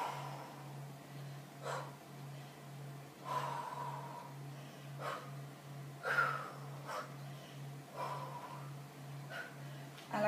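Deep, audible breaths during a side ab workout recur every second or two as soft breathy puffs and exhales, faint and close over a steady low hum, with no talking.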